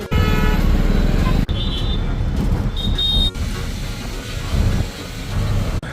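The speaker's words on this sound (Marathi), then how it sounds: "मस्त रिक्षा बुक केली." Auto rickshaw ride through Nashik city traffic: a steady rumble of the engine and road noise fills the ride, with brief horn toots and passing vehicles, loud and close throughout.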